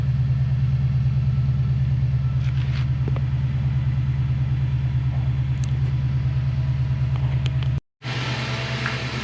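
An Infiniti M56 with PPE headers and aftermarket exhaust idles after a cold start, a loud close steady low rumble with a pulsing throb, briefly cut out near the end before the idle resumes.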